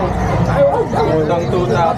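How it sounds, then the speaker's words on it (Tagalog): A three-month-old Doberman puppy yips and whimpers in short, high bursts at a busy Friday pet market, close to the listener and mixed with people talking and crowd babble. "meron po tayong Doberman, 3 months old"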